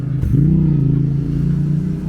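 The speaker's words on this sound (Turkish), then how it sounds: "Okulda egzoz sesi kesilmiyor" A vehicle's exhaust rumbles steadily on a Maltepe street, a low droning note that rises slightly as it revs, close and fairly loud for about two seconds with no voices.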